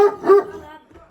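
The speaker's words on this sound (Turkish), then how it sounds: "Sizin koyun köpekleri tehlikeli." A sheepdog lets out a single loud, close bark that quickly fades.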